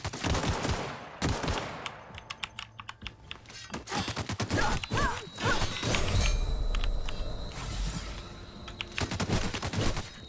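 Video game weapon fire from The Outer Worlds pops out in sharp, rapid shots and short bursts, close and punchy, mixed with clicking keys and little or no talking.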